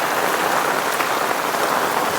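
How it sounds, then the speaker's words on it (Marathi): Heavy monsoon rain pours down in Konkan during a flood, a dense, continuous hiss of falling water, loud and close, with no other sounds breaking through. "एवढा पाऊस पडतोय"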